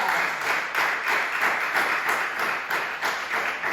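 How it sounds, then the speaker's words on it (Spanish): Church congregation applauding during a Spanish-language sermon, a steady wash of many hands clapping in a reverberant room, moderately loud and continuous with gentle swells. "Denle otro aplauso a Jesucristo."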